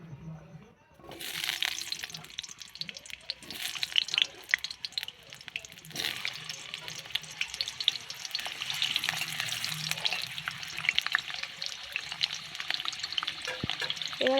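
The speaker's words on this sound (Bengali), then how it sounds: "এবার এর মধ্যে আমি দিয়ে দেব আগে থেকে কেটে রাখা আলুর টুকরোগুলো।" Potato pieces dropped into hot white oil set off a loud, crackling sizzle that starts abruptly and holds steady, with occasional spattering and faint clinks as the pieces settle.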